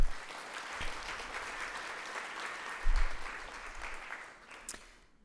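Audience applause at a talk event on menopause, a dense steady wash of clapping from a full room that swells midway and then fades toward the end.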